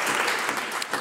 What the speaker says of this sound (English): the minister can stand up and all her colleagues can clap